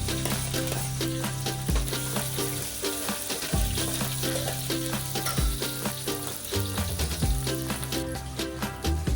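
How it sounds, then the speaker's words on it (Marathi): Chilies frying in ghee in a pot while being stirred, a continuous sizzle with rhythmic scraping strokes recurring every couple of seconds, close, partly masked by a steady tonal background. "आता त्यात मिरची टाकून परतून घेऊया"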